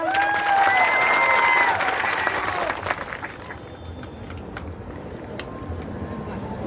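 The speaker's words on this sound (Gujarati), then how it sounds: "એવા હજારો કાર્યકર્તાઓ માટે એકવાર જોરદાર તાળીઓ થઈ જાય." Audience applause at a tribal youth committee gathering in Ghoghamba, with dense clapping that swells loudly for the first few seconds and then thins to a scattered, softer patter, while crowd noise and a voice carry over it.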